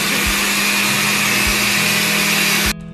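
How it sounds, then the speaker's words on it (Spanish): A kitchen blender runs loud and steady, whirring through a vegetable cream soup made with squash and quinoa, then cuts off abruptly near the end. "Mariela, pones un trapo en la licuadora para que no te salte en la cara"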